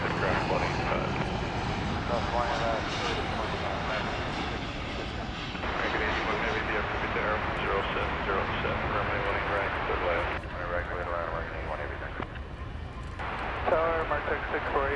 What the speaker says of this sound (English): 767 coming in.